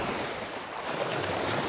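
Sea waves wash steadily onto a beach in Batangas in the early morning, a close, constant broadband surf hiss mixed with light wind, with no voices.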